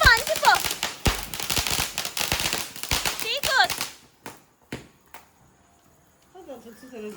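Firecrackers pop at a Vishu celebration at a family home in Kerala. A few sharp bangs are heard among people talking, followed by a quick run of scattered cracks and then quieter moments.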